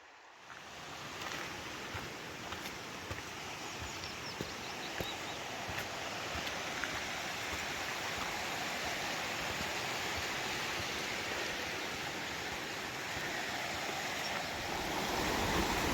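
A river in Glen Lui in the Cairngorms flows with low water, a steady broad rushing wash that stays close and constant throughout, swelling slightly toward the end, with no voices.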